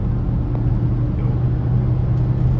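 A Range Rover Velar drives at speed on a road at night, heard from inside the cabin as a steady, loud engine and road rumble with no talking.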